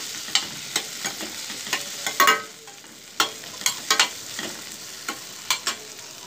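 Okra pieces frying lightly with salt in a pan, with a soft sizzle punctuated by regular scraping stirs and clicks of a spatula, close and fairly quiet with no talking.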